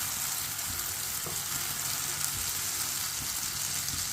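Egg paste for a sandwich fries in a pan with a loud, constant sizzle and crackle throughout. A few faint stirring sounds come through underneath.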